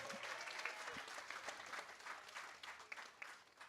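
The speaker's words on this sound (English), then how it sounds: "Please give yourself a round of applause." An audience claps at a fifth grade moving-up ceremony at Merrick Academy, steady dense applause from many hands, somewhat distant and fairly quiet, continuing throughout.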